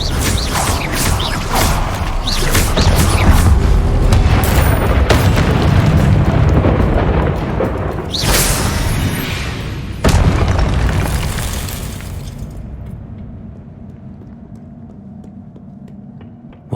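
A Confringo fire spell explodes in the video game Hogwarts Legacy, a loud booming blast with rumbling, mechanical game effects that swell, crack again near the middle, then fade into a quieter low tail.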